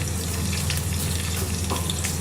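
Onions fry in a pan to brown, giving a steady, even sizzle at close range that continues without a break and without speech.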